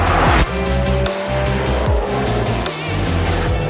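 A Volkswagen Golf GTI TCR roars loudly with a rasping, rising engine and exhaust note, revs climbing then dropping sharply in quick gear changes, with crackling pops from the exhaust and no talk over it.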